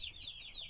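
Chickens clucking inside a coop beside a brooder box on a farm, a short, soft burst of continuous high clucking with no voices.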